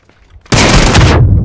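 A grenade blast and gunfire in the Battlegrounds (PUBG) video game: a loud, close burst that erupts suddenly and holds as a dense roar of shots and explosion for most of a second before cutting off.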